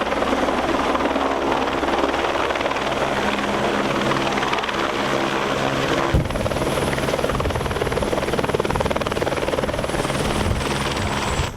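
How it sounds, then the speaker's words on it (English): A helicopter flying in the setting of rural medical transport, its steady rotor and engine roar loud and continuous throughout with no talk, the tone shifting slightly partway through. "when you're flying a helicopter, if you see the stick moving, you probably moved it too much"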